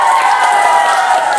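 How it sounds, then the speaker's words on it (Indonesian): Applause from a classroom audience for a student winner, a steady, even wash of clapping holding at the same level for the whole moment with no voices over it. "Tepuk tangan."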